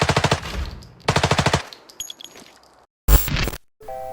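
Bursts of rapid automatic gunfire from an MP5K submachine gun in Arena Breakout, in short volleys with pauses between, a final burst then sharp game-like effects, loud and close.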